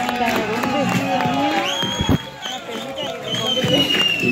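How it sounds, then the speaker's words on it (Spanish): Crowd noise at a gay parade festivity, with cheering, whoops and lively babble from many people under music and voices, fairly close and continuous. "Un aplauso para la Uchita de Juni."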